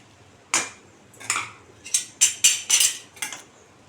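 A metal spoon clinks and scrapes against a pot while rice is layered for dum mutton biryani, giving about seven sharp, close taps in an uneven run, with no talking.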